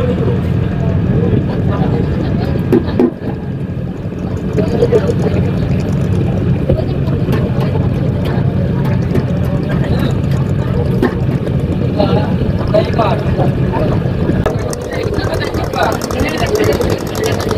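A motor trawler's engine drones steadily on the river near Nabadwip ghat, a loud, continuous low rumble lasting throughout, with people talking over it.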